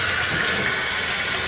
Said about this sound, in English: if I keep filling this up with cold water, it's going to be too cold to add my yeast